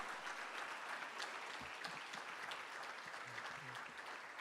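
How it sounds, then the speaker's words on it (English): Group applause from a standing audience at a graduate reskilling and career summit, a steady wash of many hands clapping, moderately distant and fairly soft, with a few low thumps mixed in. "we give them a big round of applause"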